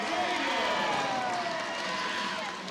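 A women's college basketball crowd roars after a player reaches a career milestone, a broad, sustained swell of cheering and clapping with a commentator talking over it.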